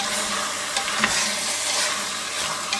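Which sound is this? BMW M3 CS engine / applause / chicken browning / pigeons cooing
chicken browning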